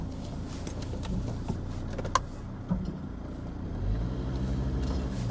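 A Volvo XC90 reverses out of a car park, its engine a low steady hum close by, with a few faint clicks and knocks and a slight rise in engine note toward the end.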